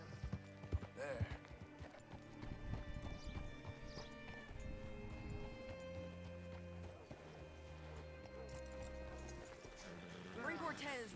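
Horse hooves clop in the Red Dead Redemption 2 video game, a steady rhythmic clatter set among game music and ambient sound, with a voice talking over it.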